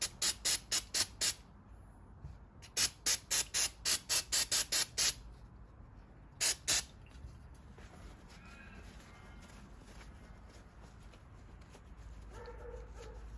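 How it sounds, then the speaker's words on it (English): Brake cleaner is sprayed from an aerosol can onto an FJ Cruiser door lock in short hissing bursts, first in a rapid run of about five, then a longer cluster, then two brief puffs, close and loud. "Just going to use a little bit of brake cleaner on it."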